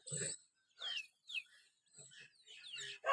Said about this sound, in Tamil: இன்றைக்கி நம்ம பண்ணையோட புது வரவுங்க 10 கோழி குஞ்சு பாருங்க